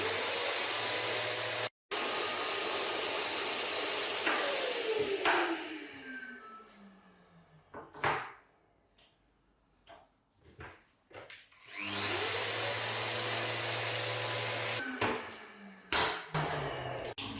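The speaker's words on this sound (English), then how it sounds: "at this time we're using our Festool RO90 and a dustless extractor" Festool RO90 sander with a dustless extractor working timber filler, a loud continuous whirring drone that cuts off, gives way to quieter knocks and handling, then starts up again at full strength.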